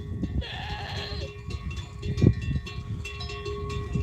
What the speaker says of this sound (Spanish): A ver cómo van a beber las cabras.